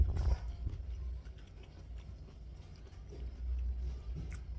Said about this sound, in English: That's how crunchy the vegetable and especially the carrot is.